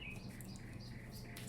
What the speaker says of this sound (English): some bird song here in the background for us